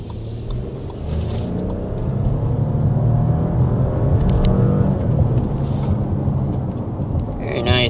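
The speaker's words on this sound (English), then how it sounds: "we need to go ahead and start with a hard acceleration" A 2026 Audi Q7 surges under hard acceleration, its engine note a steady, loud rising drone from inside the cabin with broadband road and wind roar building throughout, no talk over it.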